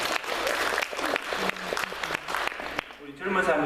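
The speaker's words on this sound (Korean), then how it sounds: "우리 박수 격려합니다" Church congregation applauding during a Sunday sermon, lively clapping from many people that briefly thins, then swells again, with a voice audible over it.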